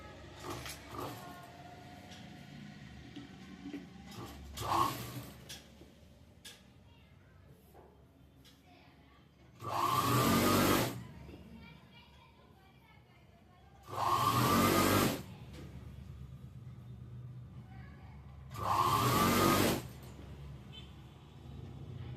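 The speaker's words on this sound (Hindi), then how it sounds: "अब इसको अंदर की तरफ इस तरह से मोड़ के यहाँ पर धार की सिलाई लगाएंगे" Electric sewing machine running in three loud bursts, each about a second long, as it stitches the folded inner hem of a kali-style salwar, with quieter handling and fabric rustle between runs.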